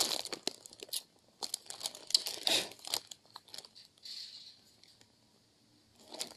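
A crinkly plastic packet of aperitif biscuits being torn open and handled up close, giving repeated sharp crackling and rustling bursts with short pauses in between.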